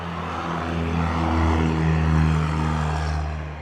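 A small Cessna propeller plane passes overhead with a steady droning engine hum that swells to its loudest midway and then fades slightly, heard at a moderate distance without talk.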